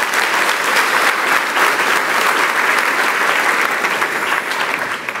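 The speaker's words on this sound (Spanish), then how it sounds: "démosle un aplauso a Dios con todo el corazón." A church congregation applauds, a loud, dense and steady wash of many hands clapping that holds evenly for about five seconds before easing slightly at the end.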